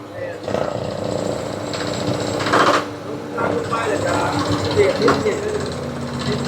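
A loud air-driven water well drilling machine with a rotating drill bit runs steadily with rhythmic rattling and hammering, while a person talks over the noise.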